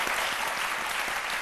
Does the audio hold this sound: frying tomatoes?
no